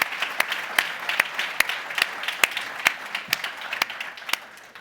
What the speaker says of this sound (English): So can we have a quick round of applause for the panel?